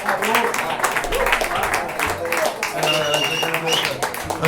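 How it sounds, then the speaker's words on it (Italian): A talk-show studio audience claps for a singer-songwriter guest in a dense, continuous patter, mixed under loud conversational speech. "anzi chiederei un applauso"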